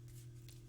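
Fairy Tale Lenormand cards are spread and pulled from the deck, a brief, very soft papery shuffling close by.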